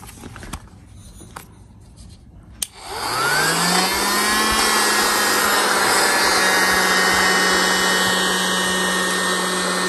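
An electric air pump starts with a click after quiet handling noises, then runs loudly and steadily with a rising whine as it fills a kids' inflatable travel air mattress.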